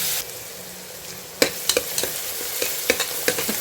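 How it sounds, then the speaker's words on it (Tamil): Onions sauté in a pan for a mutton dish, a steady close sizzle broken by a run of sharp, repeated stirring knocks and scrapes from a utensil. "இப்போ பாருங்கள், இந்த வெங்காயம் நல்லா வதங்கட்டும்."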